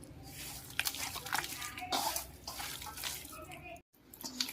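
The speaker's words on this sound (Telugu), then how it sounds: "ఇప్పుడు మరో గ్లాసుడు నూనె వేసుకుంటున్నాం" Peanut oil is poured into a pesarapindi avakaya mango pickle, a faint splashing, trickling stream under a woman's speech, with a brief silent gap near the end.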